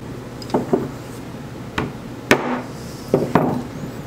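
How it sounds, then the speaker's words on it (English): A mallet strikes a punch to mark a drilling spot on a transfer board. Six or seven sharp, close taps come in small irregular groups over a faint background hum. "then just give it a tap with my mallet"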